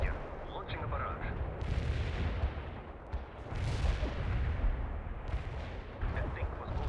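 An artillery barrage in the strategy game World in Conflict, rolling distant booms and rumbling impacts that surge in waves over a low continuous roar.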